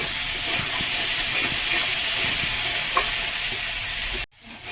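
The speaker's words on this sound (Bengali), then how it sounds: "আমি ভালো করে মশলাটা ভেজে নেবো" Ground spice masala of turmeric, cumin, chilli powder and salt sizzles and hisses steadily in a hot pan while being stirred, then cuts off abruptly near the end.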